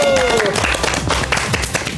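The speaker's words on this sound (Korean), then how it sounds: "박수!" A studio audience of students on a youth debate program breaks into brisk, dense applause, with a voice briefly audible at the start as the clapping continues loud and close.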